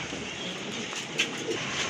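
A pair of satin pigeons coo softly in a brief, faint low murmur against a steady background hiss, with a couple of small sharp sounds and no voices.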